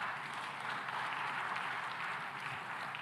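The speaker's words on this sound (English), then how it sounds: "Now you can clap." Distant audience applause at a food-systems forum, a steady, faint wash of many hands clapping with no single claps standing out.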